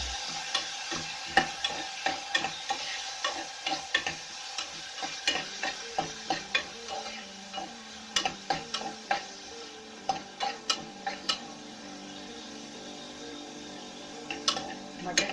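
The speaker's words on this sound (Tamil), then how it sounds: "இது ஆல்ரெடி ஃப்ரோசன்ங்கிறதுனால சும்மா 2 நிமிஷம் ஃப்ரை பண்ணால் போதும்" Frozen green peas frying in a pan, a soft sizzle under a run of quick, regular clicks and taps as a utensil stirs them nearby.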